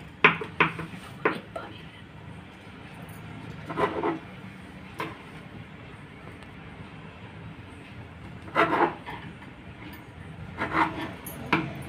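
A knife cuts bread slices for Tamil kothu bread in short scraping, rasping strokes that come in bursts with quiet gaps, close and fairly soft.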